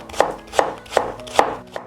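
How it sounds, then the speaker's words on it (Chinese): A knife mincing peeled chunks of Chinese yam makes five sharp, evenly spaced chops in quick rhythm, close and crisp with nothing else heard. "再用刀剁成末"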